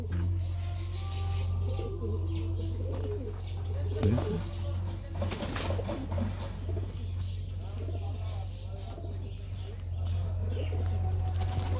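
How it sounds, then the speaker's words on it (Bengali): Pigeons coo softly in a loft, with low throaty calls repeating under nearby people talking, over a steady low hum and occasional handling noises. "এটা এটা মাদি পায়রা তাই তো?"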